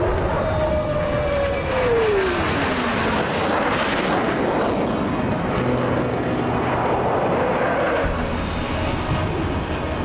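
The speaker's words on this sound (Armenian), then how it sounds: "Երևանի օդանավակայանում մարտական մեքենաների թռիչքը հաջորդում է մեկը մյուսին։" Military fighter jets fly over Yerevan airport during a display, one aircraft following another, giving a loud continuous roar with a falling engine whine early on, rushing broadband noise and no talk.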